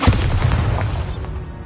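A Bombarda spell explosion in Hogwarts Legacy on PS5, one loud booming blast with a heavy low rumble that fades out over about a second.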